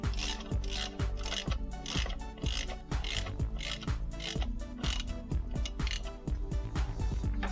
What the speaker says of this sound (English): To tighten the hex head bolts down, I'm using a 1/2-inch drive